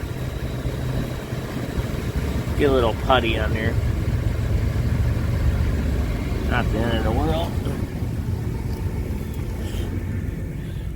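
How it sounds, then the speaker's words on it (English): Ford truck engine idling with an exhaust leak, a steady low rumble with faint ticking from the leak, heard outdoors in the wind under brief talk from a man nearby. "Oh, it's got a exhaust leak right there."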